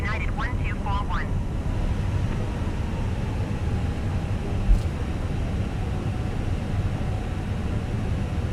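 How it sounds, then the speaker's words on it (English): A Fenix Airbus A319 in a flight simulator rolls for takeoff as United 1350 at Denver, runway 08, a steady broad engine roar filling the clip with brief radio chatter at the start. "United 1350 taking off"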